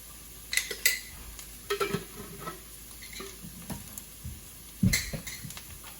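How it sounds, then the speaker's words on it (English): Chili powder hits a hot pan during rice cooking, giving a soft sizzle broken by a few sharp clinks and scrapes of stirring, close by with no talk. "now I'm going to add chili powder"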